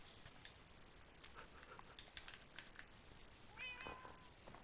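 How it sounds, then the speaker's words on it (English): A cat in the Minecraft video game meows several times, short bright calls coming one after another over a quiet background with faint tapping. "Why do you have to keep meowing like that?"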